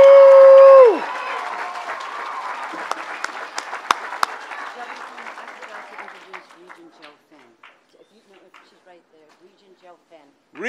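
A crowd at a governor's public announcement in Monticello claps after a speaker's voice, the applause dense at first, then thinning and fading into scattered claps over about ten seconds.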